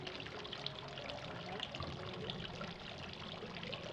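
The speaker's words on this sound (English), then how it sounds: "Now that I've placed my pie crust in, I'm going to pour in all of my apples." Sliced apples poured into a pie crust produce a steady, continuous rustling patter that runs for several seconds, fairly close.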